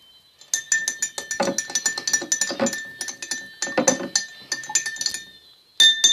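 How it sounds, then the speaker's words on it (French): A spoon stirs pineapple juice in a glass, giving a quick run of bright clinks and taps against the glass that continues for several seconds, close and fairly faint, with a short pause near the end. "Cette cuillère, on va mélanger avec."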